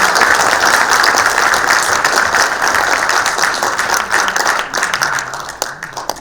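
Audience applause after a lecture by an emeritus professor at a U-Healthcare forum, loud dense clapping that fills the room from the start, thinning and fading slightly toward the end.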